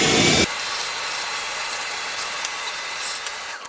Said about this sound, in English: I'm going to vacuum out the compartment